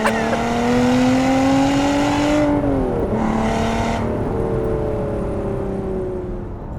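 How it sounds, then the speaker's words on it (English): Loud, close Porsche Cayman 981 GT4 engine revs climbing through the gears, with a quick shift break in the middle before the note rises again, then eases off slightly at the end. "I absolutely love this engine. It sounds incredible"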